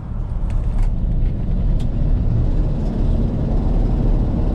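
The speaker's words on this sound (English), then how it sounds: "Sounds like we got a little bit of an exhaust leak up there." A police cruiser's engine with an exhaust leak gives a loud, continuous low rumble and roar heard from inside the car, steady and unbroken throughout.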